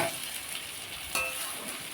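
Steady sizzling of pasta frying in a hot wok, with scraping stirs and a brief louder clatter partway through; no voices.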